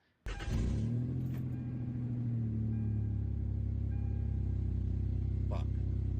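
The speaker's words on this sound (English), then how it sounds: "the truck started to make this noise" A truck engine makes an abnormal noise: a loud, low, droning rumble kicks in abruptly and holds steady, with a wavering tone early on, close and alone without talk.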